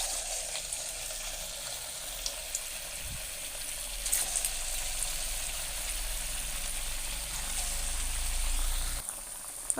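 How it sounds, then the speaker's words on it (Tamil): Rava sweet dough fries in hot oil, a steady close hiss and fine sizzling crackle that holds through the whole stretch with a few sharper pops, no voices. "இப்போ நம்ம அதை பொரிச்சிக்கலாம்."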